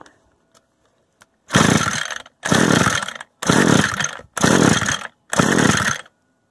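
Echo string trimmer engine being pull-started with the choke on, five rhythmic bursts of loud ripping, sputtering engine noise from successive pulls, close and evenly spaced, without the engine catching.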